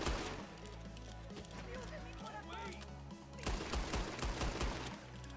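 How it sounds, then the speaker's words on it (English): Rapid hip-fired shotgun blasts in the Red Dead Online video game, several sharp booms in quick succession over a low rumbling game background. "You can rapidly fire if you aim from the hip."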